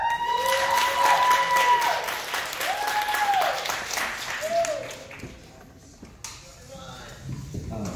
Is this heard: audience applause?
yes